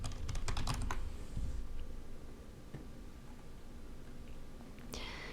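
Quick, light keystrokes on a computer keyboard, close by. A fast cluster of clicks comes first, then a few scattered taps, with faint whispery breath in the background.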